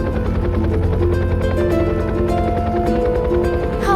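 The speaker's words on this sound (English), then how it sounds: "A medical helicopter hovered over the city." A medical helicopter hovers over a city, its steady rotor thump running loud and continuous throughout, with some tonal engine whine and no talking.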